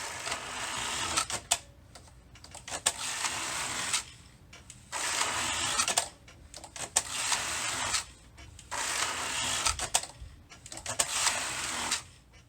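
A knitting machine fitted with a Superba Forma pattern driver knitting rows: repeated rasping carriage passes of about two seconds each, separated by short pauses and small clicks, close and steady, with no talk.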